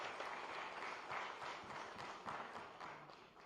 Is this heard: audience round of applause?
yes